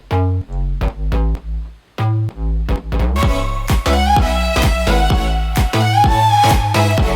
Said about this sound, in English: this bass sound is actually layered with a bass cut from the Vengeance Deep House